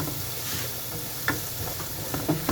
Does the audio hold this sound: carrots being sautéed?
yes